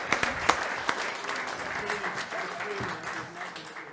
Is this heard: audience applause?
yes